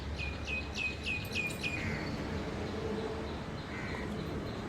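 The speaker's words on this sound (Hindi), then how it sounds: "बस पक्षियों की आवाज़ें आती हैं" Birds calling around a quiet village home in the early morning, a run of sharp, repeated high chirps up front followed by fainter scattered calls over a soft steady background hum.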